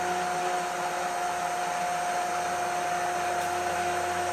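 A stick blender whirs steadily and continuously while blending egg, vinegar and oil into thick mayonnaise in a kitchen, close and unbroken throughout.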